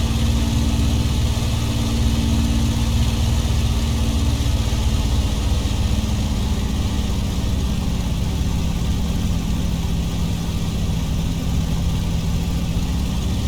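A piston aircraft engine with a supercharger drones steadily and loudly at run-up power during pre-takeoff checks, holding a constant pitch with a slight dip in speed as the supercharger is cycled.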